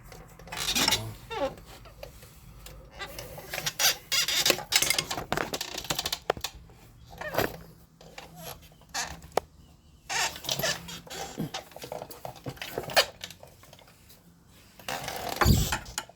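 A worn flathead screwdriver pries at a part during wheel bearing and spindle replacement on a 2020 Honda Accord, producing irregular metallic clicks, scrapes and taps in close, uneven bursts with pauses between.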